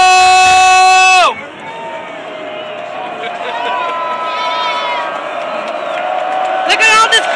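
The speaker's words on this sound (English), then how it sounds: "Look at this crowd!" Large stadium crowd at the 2012 Rose Bowl football game between Oregon and Wisconsin, a loud sustained roar and cheer after a brief tonal burst at the start, with shouting voices rising near the end.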